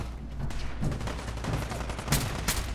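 Assault rifle fire in Fallout 4 during a survival-mode fight, a dense steady stream of shots over a loud game-audio bed, with no talk.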